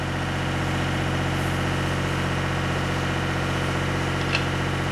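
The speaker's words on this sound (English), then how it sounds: "So I've got the generator running outside, as you can probably hear." A generator runs outdoors at a steady idle, a constant low droning hum with an even rhythmic throb that never changes over the few seconds, heard alone.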